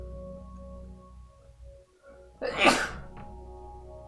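A single loud, close sneeze bursts out after a brief quiet breath-in, standing out sharply against a soft background hum.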